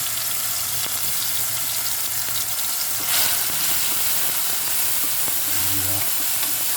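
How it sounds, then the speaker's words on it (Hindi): Chopped ingredients hitting hot oil while making a tuna dish: a dense, even sizzle and hiss, close up, with a brief louder burst partway through and no voices. "हमारा ऑयल गर्म हो चुका और चॉप किया हुआ जो मटेरियल था हमारा अंदर इसमें डाल देंगे"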